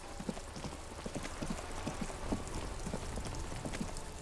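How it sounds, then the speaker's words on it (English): Rain falls steadily in the video game Disco Elysium, a constant soft hiss with scattered light taps and patters throughout, even and moderately quiet, with no voices. "It's raining again."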